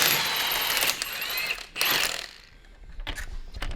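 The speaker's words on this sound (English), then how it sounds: "So you gotta use a wheel socket so you don't scratch your wheels" A wheel socket is fitted onto a car's wheel nuts, making short, close metallic clinks and ratcheting clicks in a few quick bursts, with no speech.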